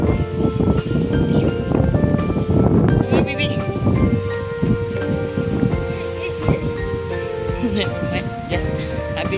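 Heavy rain pouring down outdoors, a dense, continuous hiss of drops striking surfaces, loud and steady throughout, with a faint tonal hum underneath.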